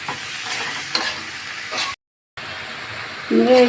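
Bitter gourd and beans fry in a pan and are stirred. A sizzling, scraping sound cuts out in a brief silent gap, then returns as a voice starts speaking over it.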